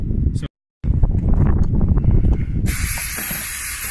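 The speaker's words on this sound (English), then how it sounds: "So we found the carb cleaner, we're spraying it in, and we're not being afraid to apply generously" Carb cleaner sprayed generously from an aerosol can into a car's throttle body, a hard hissing burst that starts abruptly and continues loudly, following a stretch of close speech and clatter.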